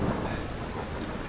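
Steady rain with low thunder rumble from the video game Skyrim, a dense continuous wash of falling rain with no voices.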